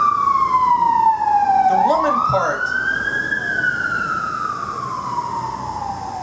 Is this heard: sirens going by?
yes